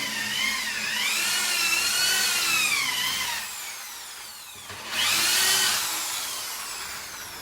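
A power drill whining at high speed, drilling into a wall in two long bursts with a short pause between, close and loud.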